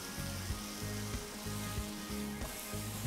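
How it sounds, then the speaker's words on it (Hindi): Tomatoes seasoned with salt and pepper shallow-fry in a pan, a steady close sizzle with soft scraping and clinks of a spatula against the pan running throughout. "ટામેટાને જસ્ટ નોર્મલ જ શેલો ફ્રાય થવા દેવાનું"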